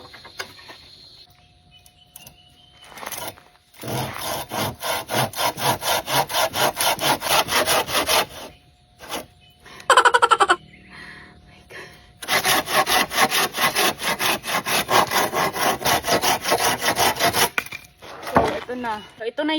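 A piece of wood being cut down with a hand saw, loud rapid back-and-forth rasping strokes in long steady runs, broken by short pauses and a brief clatter partway through.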